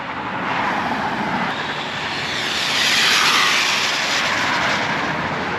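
A Traxxas 4-Tec 3.0 RC car runs at half throttle, its motor a loud continuous whine that rises and swells as it passes closest around the middle, then stays steady without any talk.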